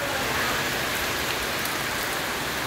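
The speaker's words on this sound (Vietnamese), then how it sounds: "Đó, vừa mưa vừa gió à." Rain driven by wind in a thunderstorm while kites are flown outdoors, a steady, loud wash of hissing noise with no breaks and no voices.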